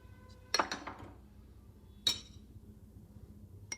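A spoon clinks against a glass of cold water while fennel sharbat premix is stirred in, with two bright clusters of ringing taps followed by a final light tink, close up in a quiet room.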